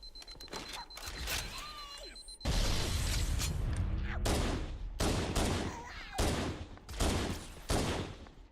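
Gunfire in Halo: Combat Evolved comes in dense bursts of loud weapon shots that alternate with short quieter gaps, mixed with mechanical game effects.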